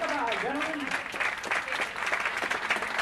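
Audience applause and cheering after an orchestra performance, loud dense clapping sustained throughout with a voice speaking over it.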